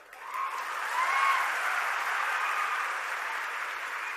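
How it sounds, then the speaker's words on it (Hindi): A crowd breaks into sustained applause and cheering that swells quickly, peaks early, then holds as a broad even wash, with no speech on top. "ताली बजाना बजा लो"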